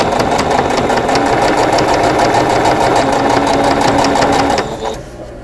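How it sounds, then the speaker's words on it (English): A sewing machine stitches rows of a winged four-patch quilt block, its needle tapping in a fast, even chatter that runs close and steady, then cuts off near the end. "Let's go to the sewing machine."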